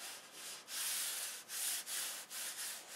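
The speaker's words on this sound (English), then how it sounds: "And rub the stencil down." A vinyl stencil rubbed down onto a surface before gold leafing, steady scraping friction strokes in several long passes with short breaks, close and clear with no talk.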